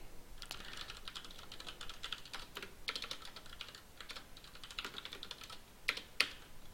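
Steady computer-keyboard typing while writing code, close and fairly quiet, with uneven bursts of keystrokes and a couple of sharper key clacks near the end, no voices.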